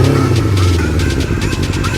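A motorcycle engine with carburetors in need of adjustment revs steadily for about two seconds, loud and close, a low throbbing drone with a rattly clatter running through it.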